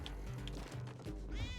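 A cat meows in the video game Spelunky 2, two short high mews followed by a longer, rising cry, heard alone over a busy background of game sounds.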